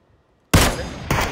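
Gunfire in PUBG, a single loud burst of shots that cuts in abruptly after near silence, followed by a second sharp report a moment later, close and prominent.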